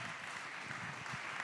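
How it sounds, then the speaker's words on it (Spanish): A conference audience at a talk applauds in a faint, steady patter of clapping that fills the short moment without any voices. "Catherine Millet, Luciana Vázquez, les pido un fuerte aplauso para ambas."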